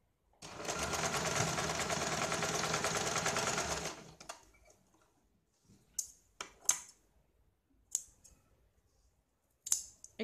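Scissors cutting an extra strip of blouse fabric, several sharp snipping clicks spaced apart after a sewing machine's rapid whirring run stops.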